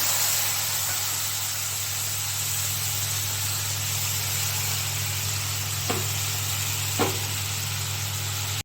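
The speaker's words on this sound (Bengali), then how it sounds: "মশলা একটু ভেজে নেব।" Spice paste frying in a pan for a vegetarian jackfruit kofta curry, a steady loud hissing sizzle throughout with a couple of brief clinks near the end.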